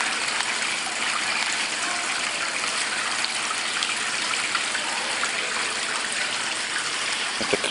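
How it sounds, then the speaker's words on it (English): Water pours steadily through a water feature with a koi pond inside a city greenhouse in Anchorage, Alaska, giving a continuous close gushing and trickling wash. "It's a water feature."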